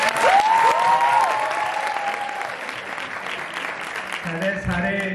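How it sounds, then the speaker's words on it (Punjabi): An audience claps together at a Guru Nanak conference, a steady wash of applause that eases slightly toward the end while a voice speaks over it throughout. "ਬਹੁਤ ਸਾਰੀਆਂ ਤਾੜੀਆਂ ਕੇਵਲ ਜੀ ਲਈ"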